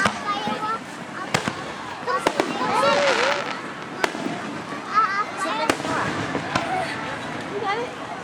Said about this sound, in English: Lighting fireworks.